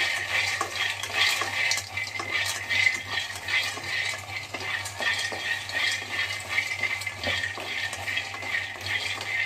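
Peanuts dry-roasting in a pan at home, stirred continuously with a steady scraping and rustling, soft and close, with no one speaking.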